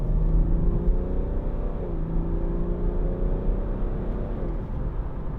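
A 2014 BMW 430d Gran Coupe with a 3.0 diesel accelerating hard up a dual carriageway, heard from inside: a muffled engine drone climbs in pitch, dips at a gear change, then rises again over steady road rumble.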